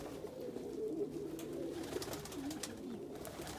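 An almond homer cock pigeon, an Ashford almond, coos in a low, throaty, rolling pattern over a few seconds, close and fairly soft with light background noise.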